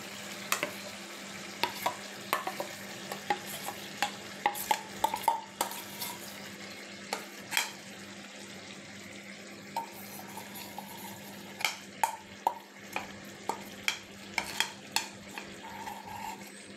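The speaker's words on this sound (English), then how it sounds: "So now we'll reduce the flame and add the curd flour mixture." Chicken being stirred with a curd and flour mixture in a pan over a reduced flame, a steady soft sizzle with repeated close scraping and stirring clicks.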